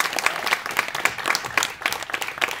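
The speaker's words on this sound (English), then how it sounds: "How about a round of applause?" An audience at an Audio Engineering Society Pacific Northwest section meeting on modular synthesizers applauds, a dense, steady wash of many hands clapping that fills the room without a break.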